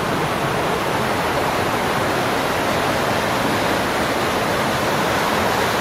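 Box Creek rushes steadily near a cave mouth, giving a loud, constant broadband roar of flowing water with no pauses.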